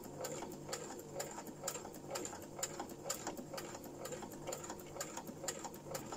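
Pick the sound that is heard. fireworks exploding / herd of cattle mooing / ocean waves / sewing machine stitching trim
sewing machine stitching trim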